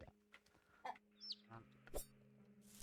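Backyard chickens cluck softly in short, scattered calls over a quiet outdoor background, faint and intermittent across a few seconds.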